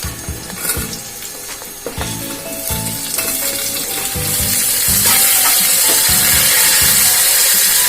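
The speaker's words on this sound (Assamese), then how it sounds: "তাৰপিছত গেছটো সিম কৰি মই ভালকৈ ভাজি লম পিয়াজখিনি নহৰু আদা গোটেই মছলাখিনি" Papaya sizzles and fries in hot oil with onion, garlic, ginger and spices, a steady loud crackle with occasional stirring scrapes that grows denser toward the end.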